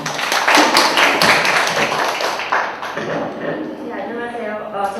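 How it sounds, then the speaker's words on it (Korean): Audience members at an academic conference clap for a presenter coming up, a loud burst of applause that thins out within a few seconds as a voice begins speaking. "큰 박수 부탁드리겠습니다"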